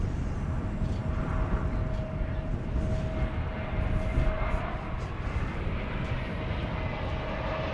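An Envoy airliner departing DFW airport produces a continuous, broad engine roar at a distance with a faint steady tone above it, while people talk faintly underneath.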